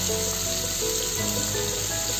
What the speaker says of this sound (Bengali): বারে বারে ভাজতে হবে, একবার দুবারে হবে না।